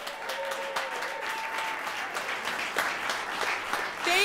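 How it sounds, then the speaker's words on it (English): A crowd at a poetry recitation competition final applauds steadily, a dense patter of clapping from many hands that continues throughout with a few brief whistles. "how about another big round of applause for everyone?"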